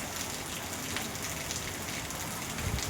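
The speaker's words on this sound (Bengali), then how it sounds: "আমাদের এখানে প্রচুর বৃষ্টি হচ্ছে" Heavy rain pours steadily and close by, a dense continuous hiss of drops striking surfaces with no break across the whole stretch.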